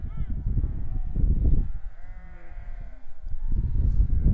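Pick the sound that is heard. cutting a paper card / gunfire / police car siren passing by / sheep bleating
sheep bleating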